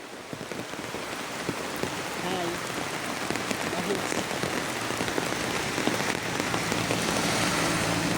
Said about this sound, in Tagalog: Magsisilong sa dahon ng saging kasi malakas yung ulan